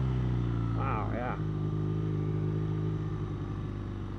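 A 2016 BMW R nineT motorcycle engine hums steadily while engine braking, a close, even low drone that eases slightly toward the end, with a brief rising tone early on.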